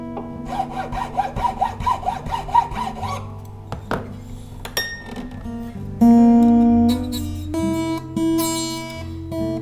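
A file rasps in short, rhythmic strokes as the guitar nut slots for the B and E strings are lowered, with plucked guitar string tones ringing out between and after the filing.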